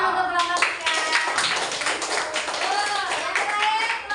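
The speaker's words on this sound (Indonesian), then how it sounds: "Tepuk tangan untuk kelompok 3." Classroom applause for a student group after their presentation on the human skeletal system, steady rapid clapping mixed with chattering voices throughout.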